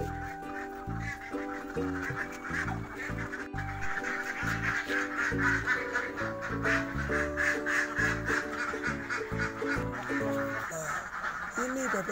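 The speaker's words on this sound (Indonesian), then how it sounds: "ini bebek-bebek kami yang saya ceritakan tadi sebanyak 500 ekor" A large flock of about 500 domestic ducks on a farm, a dense, continuous din of overlapping quacking that sounds close and loud throughout.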